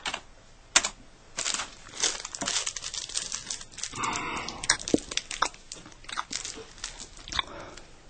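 Rapid, irregular clicking of keys being typed on a keyboard, close by and fairly steady, with a few louder taps mixed in, during a Korean radio reading.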